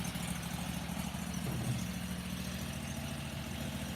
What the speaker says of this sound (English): That motor, Richard, is for my rock crusher that I'm importing from China